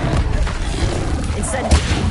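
Incendio fire spell cast in Hogwarts Legacy on PS5: a steady rumbling game soundscape with a couple of sharp, bright whooshing fire bursts late on, close and fairly loud.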